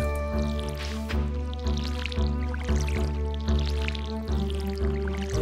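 Watering crops with a watering can in the farming game Stardew Valley, with liquid dripping and pouring sounds repeating in short regular bursts over steady game music, no talk.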